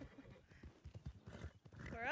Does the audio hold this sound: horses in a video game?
yes